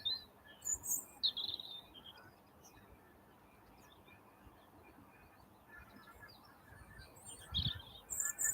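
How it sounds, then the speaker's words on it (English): Bird scarers used by rangers at Liverpool Airport broadcast faint, distant chirping bird calls in scattered bursts over a steady outdoor rumble. "Sounds like they've got the bird scarers out."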